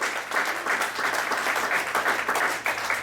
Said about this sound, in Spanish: Un aplauso para Manny desde que se puso de salvador